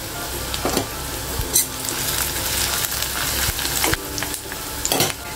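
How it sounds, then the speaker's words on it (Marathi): Onion, garlic and curry leaves sauté in a hot pan, with a steady sizzle and frying crackle broken by scraping stirs from a spoon, close and fairly loud with no talk. "कांदा थोडा परतून घ्यायचा, अगदी जरासा परतून घ्यायचा। मग ह्यामध्ये कढीपत्ता घालायचा"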